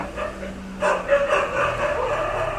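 A dog barks and yips a few times in front of a laptop repair shop, the calls fairly close and moderately loud against steady room noise, with no talk over them.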